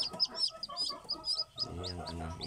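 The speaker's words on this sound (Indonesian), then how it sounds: "ayam kampung." Village chickens, a mix of Elba and kampung hens, cluck and chirp at close range in a busy farmyard, with overlapping soft calls, high peeps and a lower throaty cackle toward the end.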